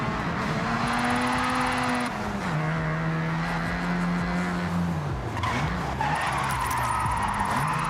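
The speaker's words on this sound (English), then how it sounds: "If you don't drift with style, it's just skidding" A car drifts in the Forza Horizon racing game, tires squealing in long sustained skids while the engine note rises and falls and shifts through gears, loud and continuous.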